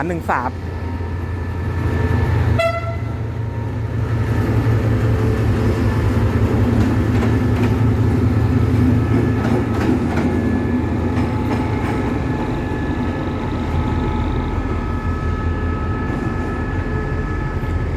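Special train 954 from Ayutthaya to Bangkok departs Hua Lamphong station behind its locomotive, a steady close rumble of engine and rolling wagons with a brief horn-like tone early on, while someone talks over it.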